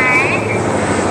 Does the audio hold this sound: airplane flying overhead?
yes